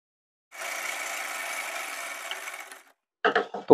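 A sewing machine runs in one steady burst for about two seconds while stitching a pocket on plazo pants, then stops. A few short mechanical clicks or taps follow.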